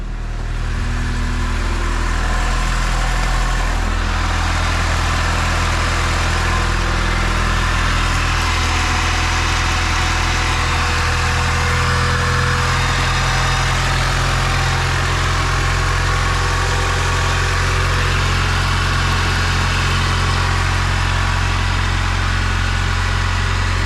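A turbocharged B16-swapped Honda CR-V engine idles steadily and loudly up close, a continuous low rumble with a constant hum and no voices.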